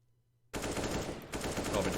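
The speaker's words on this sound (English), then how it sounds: "They do want to go hunting with these pistols." Rapid pistol shots in Counter-Strike: Global Offensive during a competitive esports match burst in abruptly and continue as a dense, loud volley of gunfire with a brief gap, overlapping into near-continuous shooting.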